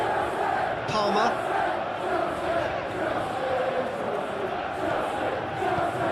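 A stadium crowd murmurs and roars steadily through an eFootball 2021 match between Chelsea and Manchester City, a continuous dense wash of distant voices and cheering with a brief swell near the start.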